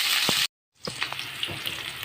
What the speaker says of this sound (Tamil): இதை நான் ஹை ஃப்ளேமில் வச்சு தான் வறுக்க போகிறேன்